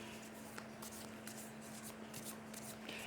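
Tarot cards being shuffled by hand, a soft continuous riffling and sliding with small irregular flicks, quiet and close, over a faint steady hum.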